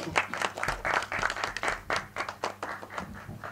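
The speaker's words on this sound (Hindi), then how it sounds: "प्रोड्यूसर साहब हरीश भाई जोरदार तालियां" Audience applause at a Hindi film trailer launch event, steady dense clapping lasting throughout, fairly close and moderately loud, with no speech over it.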